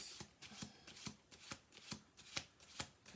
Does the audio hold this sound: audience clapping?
no